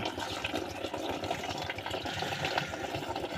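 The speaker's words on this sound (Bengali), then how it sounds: "পানিটা দিয়ে দিবেন" Water pours steadily into a fertilizer mix being prepared to treat onion plants, a continuous close splashing and filling sound with no voices.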